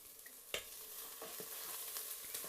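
Chopped coriander is stirred into chicken tikka masala in a Pressure King Pro cooker, a faint, steady sizzle with a few soft knocks and scrapes of the spoon against the pot.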